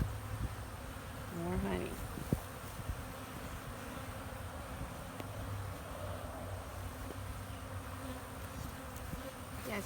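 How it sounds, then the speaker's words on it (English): Honeybees buzzing in an open hive, a low steady hum close by throughout while a person speaks briefly. "Look how those bees are going into the hexagon-shaped cells."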